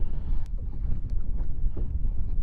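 Wind blowing outdoors buffets the microphone in a continuous low roar, loud and close throughout, with no talking.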